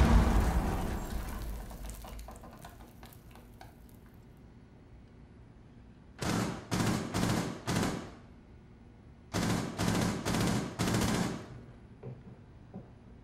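Two separate volleys of heavy shotgun blasts from Rainbow Six Siege, each a quick cluster of about four loud booming shots, fired after a stretch of quieter background game noise.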